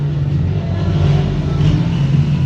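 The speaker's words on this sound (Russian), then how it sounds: "Как они достают своими мопедами местные" Local mopeds and motorcycles pass near a coral beach at Rincón in the Dominican Republic, a loud, continuous low engine drone that swells slightly as they go by, with no talk.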